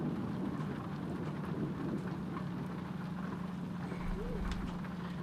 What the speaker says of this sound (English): that storm is hitting bad